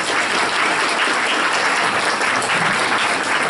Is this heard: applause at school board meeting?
yes